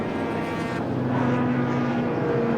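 A Ford Falcon V8 Supercar races at Silverstone in a touring car event, its engine a loud, continuous roar that holds steady with a rising whine, close by and unbroken.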